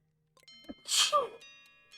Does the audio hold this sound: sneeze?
yes